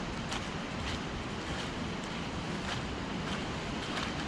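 Steady wind rushes along a forest path, a constant broadband roar with faint gusty swells, loud and close against the microphone with no voices.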